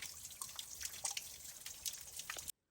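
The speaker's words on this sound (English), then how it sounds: "I think I'm gonna get water here." Water drips and trickles at a trail water source among quartz boulders: irregular close drips over a steady splashing flow, continuous for a couple of seconds before cutting off.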